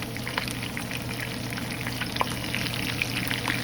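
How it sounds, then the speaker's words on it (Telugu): Sliced red onions fry in oil in a pan, giving a steady, close crackling sizzle with scattered pops and no voices throughout. "చేసి ఇవి బాగా ఫ్రై అవ్వాలి, చప్పగా ఉంటే బాగుండవు, బాగా ఎర్రగా ఫ్రై అయిపోవాలి."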